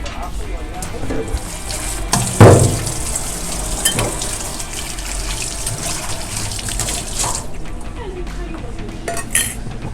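A small kitchen utensil washed under a running tap, with steady water flow and clinking metal against dishes, a louder clatter near the start, and faint talk in the background.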